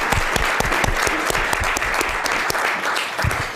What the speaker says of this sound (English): And if we can give a parting round of applause to each of them,